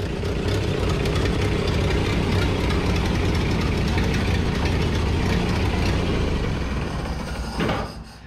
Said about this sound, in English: Sounds pretty good idling.